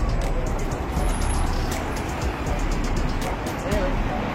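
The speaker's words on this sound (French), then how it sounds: "Trafic à Bruxelles." Busy street traffic in Brussels rumbles as a dense, steady roar of passing cars and heavier vehicles, with faint higher whines drifting over it and no single vehicle standing out.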